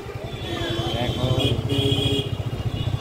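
A motorbike carrying riders and loaded with goods rides along a road, its engine thrumming steadily and close, with a low pulsing rumble throughout and wind noise, while a person talks over it.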